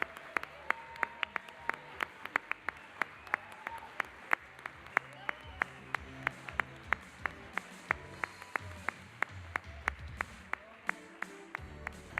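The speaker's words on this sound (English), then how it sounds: "Give a big round of applause for them." Audience applause at an award ceremony, heard as a steady wash of clapping with sharp, regularly spaced claps standing out, continuing for about twelve seconds.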